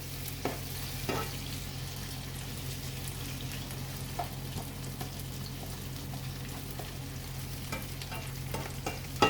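Sliced onions frying in a pan as they are stirred, giving a steady soft sizzle with occasional scraping clinks. The sound is close and sustained, with no talking.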